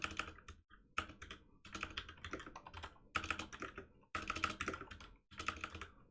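Fast, dense typing on a computer keyboard close up, bursts of rapid clacking keystrokes separated by brief pauses, with no voices.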